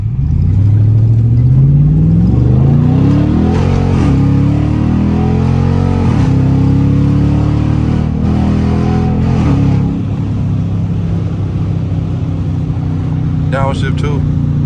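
A Dodge Charger R/T in sport mode launches with a loud, close engine rev that climbs sharply and then holds a steady growl, with voices talking over it.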